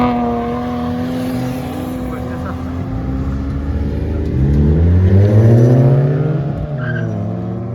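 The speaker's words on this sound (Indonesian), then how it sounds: "Semuanya jadi ngegas semua ini." Loud engine roar with rising and falling pitch as cars, including a Lotus Evora and an SUV, accelerate and shift gears on a race track, revving harder near the middle, heard close up.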